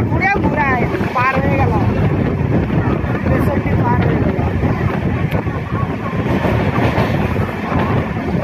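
A passenger train on the Howrah–Digha Tamralipta route runs toward Tamluk, a loud continuous rumble and rattle of carriages heard from inside, with voices chattering throughout and brief squeals near the start.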